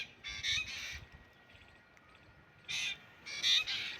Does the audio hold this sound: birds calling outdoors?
yes